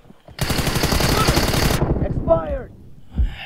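Sustained automatic fire from an M416 rifle in the mobile game PUBG Mobile: a loud, rapid burst lasting over a second, then a brief whooshing sweep and a few softer thuds.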